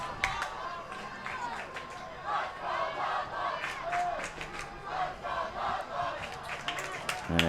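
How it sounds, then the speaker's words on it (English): Partisan student cheering section at a boys high school soccer game between Wilton and Fairfield Ludlowe chanting rhythmically in unison, a crowd roar with regular accented beats heard from across the field, steady throughout. "And a chant of "Let's Go Ludlowe" from the partisan cheering section down to our left."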